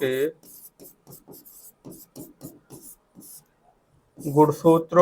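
Writing strokes on a board during a genetics lecture: a string of short, light scratchy marks in a quiet stretch, framed by someone speaking before and after.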